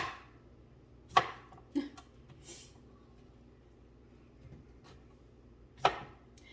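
Slices are cut through a cucumber by hand with a knife, producing two sharp, isolated chops about four seconds apart, each a crisp knock against the board, with a softer tap between them in a quiet room.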